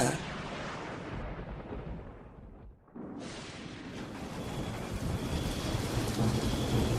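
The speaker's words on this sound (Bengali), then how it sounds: "এই বৃষ্টি যেন সাধারণ বৃষ্টি নয়, মুষলধারে বৃষ্টি নেমেছে।" A cartoon-style sound effect of a heavy night downpour with thunder and wind: a dense, roaring wash of rain that dips briefly midway, then surges back and keeps building.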